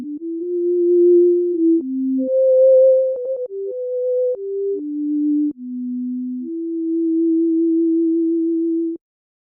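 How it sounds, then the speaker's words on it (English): A pure FM synthesizer sine carrier tone in Surge XT plays a short melody of held notes, gliding between pitches, clean and steady, then stops abruptly. "So we have this one basic sine wave, and this is called the carrier wave."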